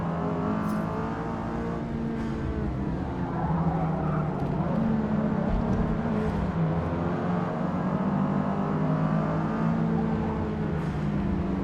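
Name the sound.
race car engine in Forza Motorsport video game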